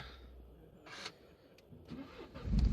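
A 2015 Mini Cooper 1.5 three-door hatch starting up: quiet clicks and a brief whir of the starter, then the engine catches and swells into a louder low rumble at the end.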